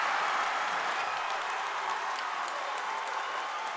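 Basketball crowd at a boys' high school game between Sterling and Metamora, a steady wash of cheering and applause filling the gym after a made basket, loud and continuous throughout.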